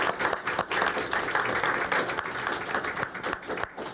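An audience at a late-night school board meeting claps together, a busy patter of individual hand claps forming continuous applause at moderate loudness, with no speech.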